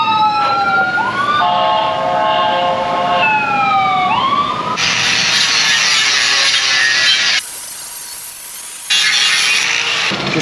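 A police siren wails with rising and falling tones as it passes, then is drowned out by loud, harsh grinding from a carbide cutting tool in a metal repair shop.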